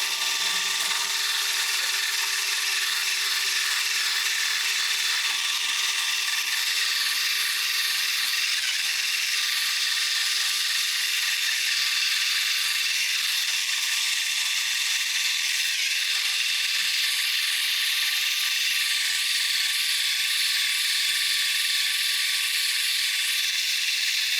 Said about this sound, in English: We're just going to use the wire brush, go with the grain